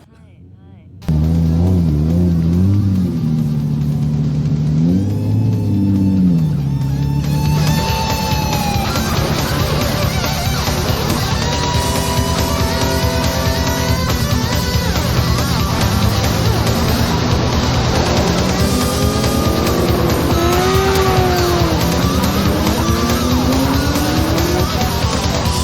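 A 1992 Nissan Skyline R32 GTR in underground racing gives off loud, sustained engine noise with rising and falling revs and gear changes, and tire squeal may sit in the mix, while a voice talks over it.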